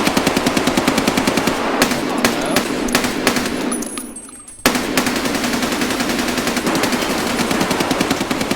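Rapid automatic gunfire in the video game Escape from Tarkov, loud and close, with steady rattling bursts that pause briefly and then resume.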